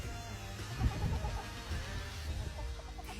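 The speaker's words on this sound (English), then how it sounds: "really all I had were some chickens" Several chickens cluck and mutter in a continuous low chatter close by, with a slightly louder burst of clucking near the start; no one speaks.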